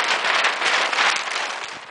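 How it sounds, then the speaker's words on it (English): Steady rain falls outside a house under renovation, a dense, even hiss of drops on surfaces that holds level throughout without any voices. "right now it's raining"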